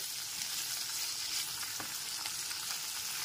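Chopped capsicum and peas sizzle and fry in a pan while being stirred for oats khichuri, a steady close crackle with faint scraping.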